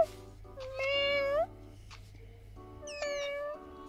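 Cats in the video game Miga World meow in two clear, drawn-out calls, the first rising and wavering, the second shorter and higher, over a faint low hum.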